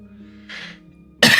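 A soft breathy exhale, then one abrupt, loud cough right at the end, close to the microphone.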